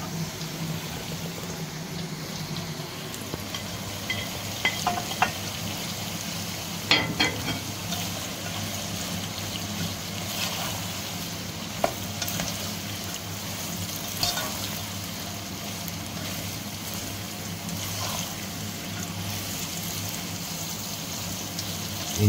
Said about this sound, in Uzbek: Endi buni chiroyli sabzi o'lguncha 10-15 minut qovuramiz.